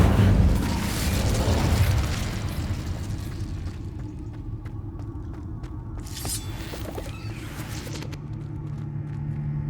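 A Hogwarts Legacy Incendio fire spell bursts with a loud whooshing boom at the start, then a rumbling fiery tail fades into quieter crackles and ambient game sound.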